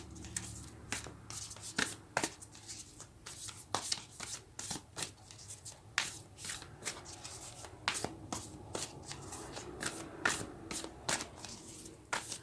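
A deck of cards is shuffled again and again up close, giving quick riffling bursts in an uneven rhythm over about twelve seconds, with no talking.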